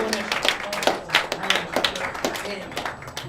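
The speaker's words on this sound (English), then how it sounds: "Everybody put your hands together for the spectacular John Goodwin." A comedy club audience claps and applauds in a sustained, uneven patter of hands lasting a few seconds, fairly close and lively, with voices mixed into the crowd noise.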